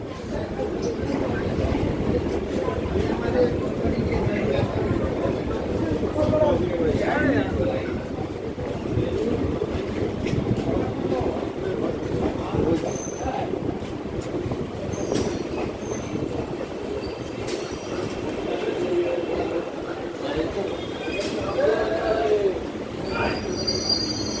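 Local train pulling into BBD Bag station in Kolkata, a steady continuous rumble of rolling wheels and carriages with occasional squeals, under a busy platform murmur of voices.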